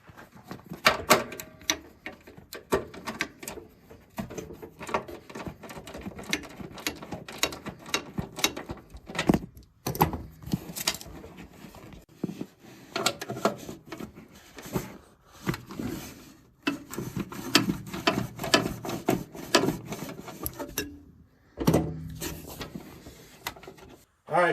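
A hand ratchet works bolts loose on a Kioti CX2510 compact tractor, giving repeated runs of close mechanical clicking with pauses and metallic handling between the bursts.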